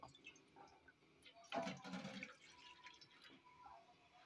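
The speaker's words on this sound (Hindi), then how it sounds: "पानी डालेंगे 1 गिलास।" A glass of hot water is poured into a cooking pot on a stove, giving a brief splashing gush of about a second, fairly close, followed by faint kitchen sounds.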